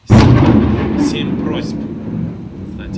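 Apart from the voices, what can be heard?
thunder outside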